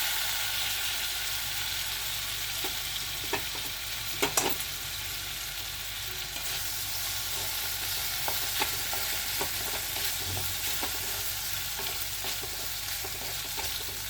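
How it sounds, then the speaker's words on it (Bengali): Pasta tossed with carrots, baby corn and capsicum frying in a pan, a steady close sizzle throughout with scattered scraping clicks from stirring and a few sharper knocks near the middle, no voices. "পাস্তাটাকে একটু নেড়ে চেড়ে মিক্সড করে নিচ্ছি, একটু হালকা ফ্রাই করে নেব।"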